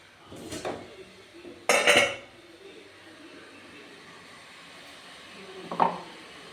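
Metal idli steamer pot and plates handled in a kitchen: a few sharp metallic clanks and rattles, one cluster early and a brighter double clatter near the start, then a lone clink later, close by over quiet background.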